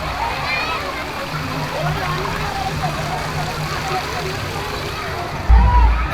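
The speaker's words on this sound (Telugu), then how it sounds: "మనం ఇక్కడ కనుక చూసుకుంటే ఒక చిన్న వాటర్ ఫాల్ అయితే పెట్టినారు" A small artificial waterfall at Ocean Park amusement park in Hyderabad splashes and rushes steadily nearby, with faint voices of children and visitors in the background and a brief loud thump near the end.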